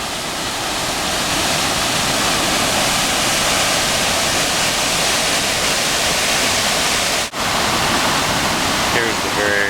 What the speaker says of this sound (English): Here's the very beginning of the steep waterfall in Moline Canyon.